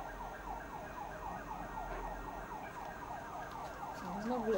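A fire engine siren wails steadily in the distance amid traffic rumble in Kraków, its rising and falling tone repeating for a few seconds.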